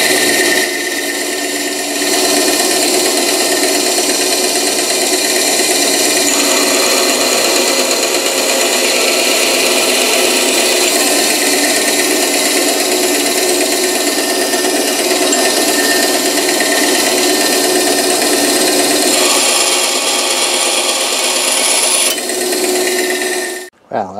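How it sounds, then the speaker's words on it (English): A Craftsman wood bandsaw cuts steel and aluminum stock with a loud, continuous, close grinding rasp. It holds steady for about twenty seconds, then winds down abruptly at the end, and nobody speaks. "wood bandsaw cutting steel and aluminum"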